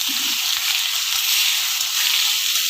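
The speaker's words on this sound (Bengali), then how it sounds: "তেল দিয়ে একটু করে পেঁয়াজ দিয়ে দিলাম" Onions frying in oil in a pan, a dense, loud, even hiss of sizzling heard up close for the whole stretch, with no talking.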